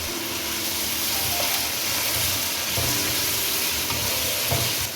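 Garlic, ginger and ground coriander fry in a pot, a steady close sizzle and crackle with occasional stirring scrapes throughout.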